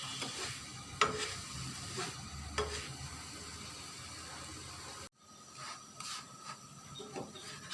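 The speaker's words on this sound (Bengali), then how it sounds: "এর মধ্যে একটু হালকা করে তেল দিয়ে দেবো। এটাকে ঘুরিয়ে ঘুরিয়ে এভাবে ঘুরিয়ে ঘুরিয়ে একটু রুটিটাকে সেঁকে নেব।" A flatbread for traditional Bengali pitha toasts in a little oil in a pan and is turned round and round. A soft, quiet sizzle and hiss carries scattered light scrapes, with a brief cut partway through.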